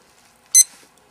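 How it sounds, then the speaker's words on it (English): A single short electronic beep from a poker tournament dealer button blinds timer when its button is pressed, one bright, clean tone, close and alone against near silence. "it makes a beep every time you press a button"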